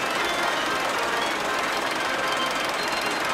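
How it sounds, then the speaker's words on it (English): The engine of a four-wheel-drive Grey Ferguson tractor runs steadily with a dense, rapid knocking chatter, loud and continuous throughout with no voices. "a Grey Fergus four-wheel drive with a different type of engine in that one"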